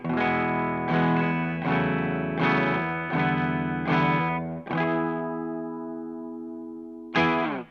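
Clean electric guitar on the bridge pickup, drive off, picks out a bright, twangy phrase of ringing chords and notes, closely heard, with a long sustained note near the end.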